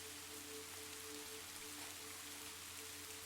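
Soft, steady rain patters against a window pane, a continuous gentle hiss with faint low hum beneath, no voices.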